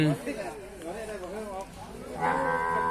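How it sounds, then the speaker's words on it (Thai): European crossbred cattle at a livestock market low and moo close by, with a long lowing call rising near the end, while people talk through most of the sound. "วันนี้ก็ได้วัวลูกผสมเลือดยุโรปแบบนี้มา"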